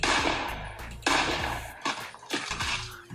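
Gunfire in the video game Fortnite: a few sharp, loud shots burst out at irregular moments over a steady tonal game background.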